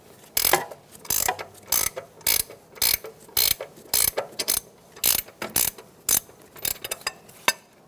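Ratcheting wrench loosening the upper ball joint nut on a 2014-2018 Chevrolet Silverado 1500, giving a dozen or so close, crisp clicking bursts in an uneven rhythm with quiet gaps between them.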